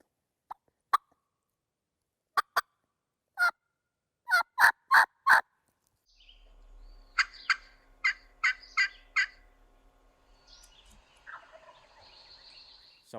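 Turkey call played by a hunter imitating a gobbler's sounds: a series of sharp yelps that grow louder, then a quieter run of clucks and yelps over faint outdoor background, close and clear with no talk.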